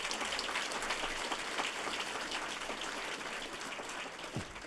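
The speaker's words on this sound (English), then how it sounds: "Let's give them a round of applause." Dense, even applause from an audience at a university faculty and staff assembly, honoring the advancement team; soft, hissing and rain-like, held at steady low loudness.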